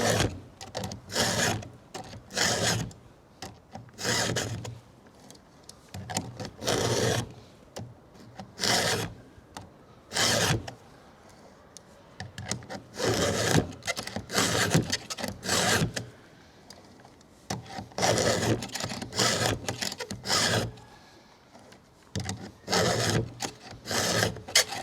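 Hand filing of a chainsaw chain's slightly dulled teeth with a dual sharpener, close-up: rhythmic rasping strokes in short bursts of about three passes, separated by brief pauses, loud and steady with no talking.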